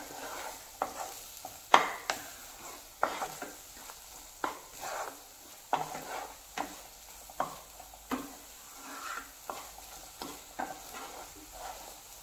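Egg bhurji stirred in a pan over a medium gas flame, with a steady soft sizzle under repeated scraping and clinking strokes of the spatula, close and moderately quiet, with no talking.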